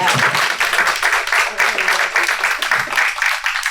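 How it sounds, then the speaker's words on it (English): Audience applause for treasurer primary runoff candidates at a Republican forum, a steady wash of clapping lasting the whole stretch at moderate loudness. "Let's give them a quick round of applause."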